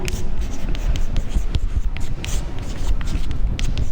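Steady scratchy writing strokes from a maths lesson on triangle angle sums, close and fairly loud, with short sharp ticks and scrapes repeating throughout four seconds and no talking over it.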